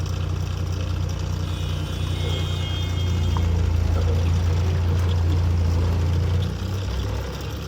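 Steady road traffic in Kerala: a continuous low vehicle engine drone with road rumble holds throughout, swelling slightly midway before easing near the end, with no talk.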